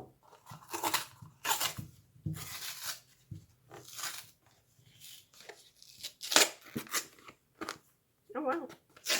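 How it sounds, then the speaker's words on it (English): Handmade herbal-tea soap is sliced and peeled out of its mold, giving a string of scraping, tearing and crunchy cutting sounds in uneven bursts, close and moderately loud, with short quiet gaps between strokes. "we need to cut this thing up and peel it off"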